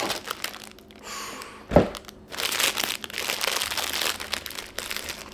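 Plastic sleeve of bland crackers crinkled and crushed by hand, a dense crackling rustle that comes and goes in bursts over several seconds, close and fairly loud, with no talking.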